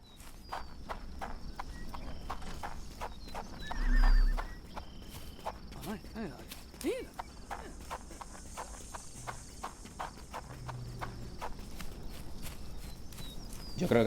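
Horse hooves clip-clopping at a walk in the Sherlock Holmes: The Awakened game, a steady soft plodding under insect and cricket ambience, with a brief thud near the middle; no clear neigh stands out.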